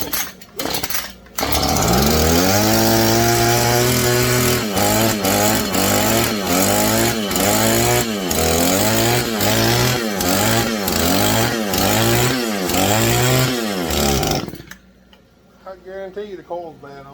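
A Husqvarna 435 X-Torq chainsaw, suspected of having a bad ignition coil, is pulled over and runs in repeated rough, surging bursts, the engine note rising and falling rhythmically before cutting out near the end.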